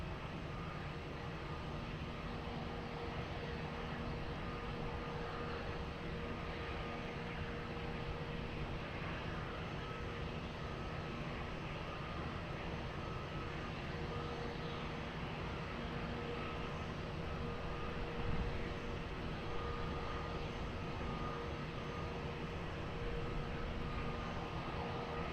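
A Boeing 787 Dreamliner landing at Lisbon Airport, heard as a steady, broad jet roar holding at an even level throughout, with no talk over it.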